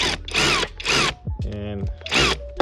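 An electric wrench whirs in short bursts while tightening bolts on a 2014 Ford Focus SE engine during a VVT solenoid and gasket job, the tool loud and close with a voice speaking briefly between bursts.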